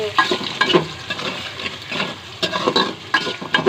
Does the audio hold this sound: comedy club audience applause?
no